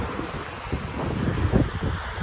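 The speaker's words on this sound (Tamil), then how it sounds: "சம காத்து." Strong wind blows outdoors in Georgia, a loud continuous broadband roar and buffeting with gusty surges that build toward the middle and stay heavy to the end, without voices.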